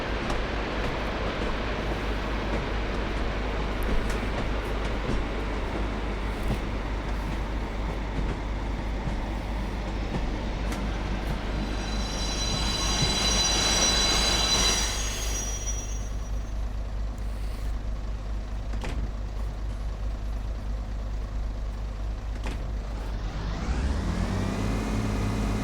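A simulated train in Train Sim World 5 on the Blackpool South to Ormskirk line brakes to a stop, with a steady low rumble, a rising hiss of air brakes partway through and a brief tonal whine near the end.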